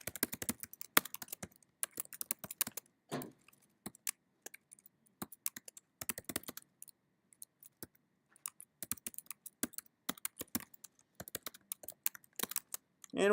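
Rapid bursts of clacking keystrokes on a computer keyboard while a simple C++ program is typed in, irregular clusters of crisp clicks separated by short pauses, close and clear with no talking.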